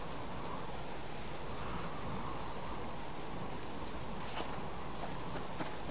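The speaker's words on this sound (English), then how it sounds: "The stormy night." Steady heavy rain falls through a stormy night in a survival video game, a constant dense hiss with faint patters, thunder not clearly distinct.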